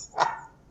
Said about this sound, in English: I'm sure you hear the dog barking.